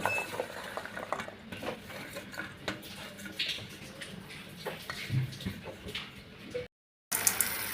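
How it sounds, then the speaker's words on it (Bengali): Chopped vegetables, onion among them, are tossed and mixed by hand in a bowl with a little salt, giving a steady soft rustle with light clinks of the bowl, then a brief silence near the end. "এখন সবগুলো মিক্স করব মিক্স করে ধুয়ে নেব"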